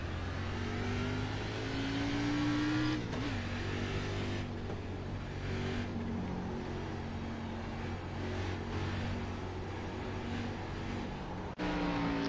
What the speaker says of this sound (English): Okay, we can throttle it up on new tires.